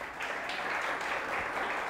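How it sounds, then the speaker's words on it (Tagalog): A church congregation claps for Jesus during a Sunday service, a brief, fairly faint burst of dense, even applause from many hands. "Palakpakan po natin si Jesus."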